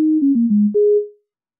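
A pure sine waveform from an MRB Tiny Voice synthesizer module, a clean smooth tone stepping down through several pitches then jumping higher and fading out, alone.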